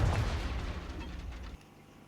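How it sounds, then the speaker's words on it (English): Confringo fire spell cast in the video game Hogwarts Legacy, bursting with a loud low rumbling blast that decays over about a second and a half before cutting off. "a Confringo cast travels a bit farther than that of a spell like Incendio"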